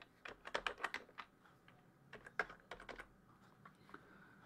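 Fingers tap out a password on a computer keyboard in quiet, close bursts of rapid clicks with short pauses between groups.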